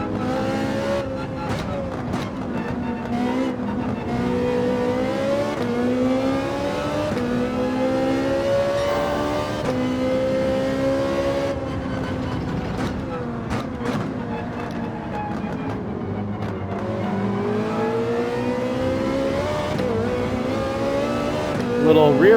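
A race car in a racing video game revs hard through a double downshift, its engine note climbing and dropping in a continuous loud whine with quick throttle blips and no break for over twenty seconds.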